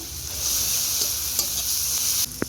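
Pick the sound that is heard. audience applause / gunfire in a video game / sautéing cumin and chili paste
sautéing cumin and chili paste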